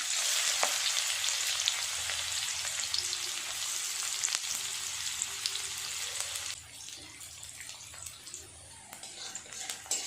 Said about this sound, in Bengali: পেঁয়াজটা লাল লাল করে ভাজা করে নেব